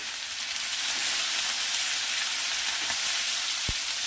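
Ginger garlic paste frying in a hot pan, a steady, close hiss of sizzling oil throughout, with soft stirring clicks and a faint tap of the spoon near the end.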